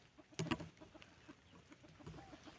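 Breeder hens and small young chickens cluck on a farm, with a brief burst of close clucking near the start, then quieter scattered calls over low background noise.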